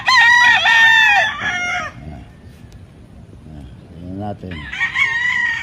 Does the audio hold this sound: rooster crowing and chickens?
yes